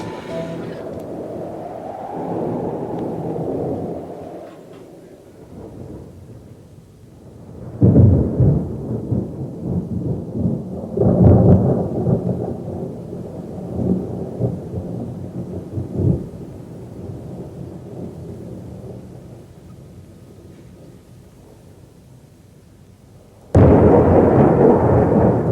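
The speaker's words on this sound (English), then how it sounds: "Oh, no, not another storm." A thunderstorm with rain rolls through, with deep rumbling thunder swelling and fading in several loud bursts over a constant hiss of rain, and a sudden heavy crack near the end.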